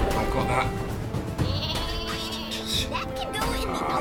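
Super sheep bleating in the Worms W.M.D video game on Nintendo Switch, a loud cartoonish bleat mixed with game effects and music, with players talking over it.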